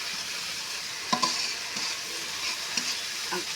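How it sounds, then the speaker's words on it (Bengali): Spice paste for fish curry being stirred and fried in a pan, a continuous close sizzle broken by a few sharp scrapes and taps of the spoon, with no talking. "মশলাটা সুন্দর করে আমি সবগুলা দিয়ে মিক্স করে সুন্দর করে কষে নিচ্ছি দেখেন"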